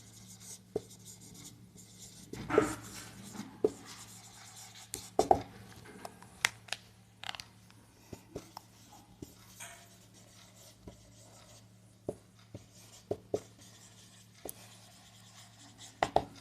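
Chalk or marker writing on a board during a Hindi-language English grammar lecture, heard as scattered short taps and scratchy strokes over a steady low hum, fairly faint with no talking.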